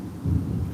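Low, heavy rumble of thunder from an afternoon thunderstorm in Tampa, Florida, swelling briefly and rolling on steadily with no voices.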